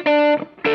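A short burst of electric guitar through stacked overdrive pedals including a Suhr Shiba Drive, two sustained distorted chords with a brief gap between them, loud and close.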